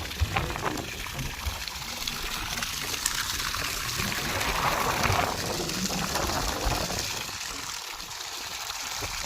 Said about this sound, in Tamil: எந்த அளவுக்கு தண்ணி வருது